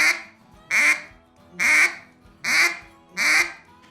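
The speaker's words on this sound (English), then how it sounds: "we're going to do the gwit sound and quack sound" A hand-blown duck call gives five loud, evenly spaced quacks with brief gaps between them, close and clear with no talking.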